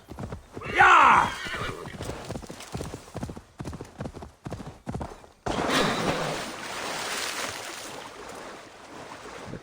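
A horse in the Assassin's Creed Valhalla Wrath of the Druids game gives a loud whinny, then its hooves clip-clop in a steady rapid rhythm before splashing water and a wash of waves take over as it swims.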